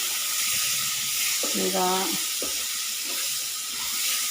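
Mustard-seed tempering sizzles hard in a hot pan while tamarind-leaf chutney is being made. The hiss is loud and steady throughout, with a brief spoken word over it.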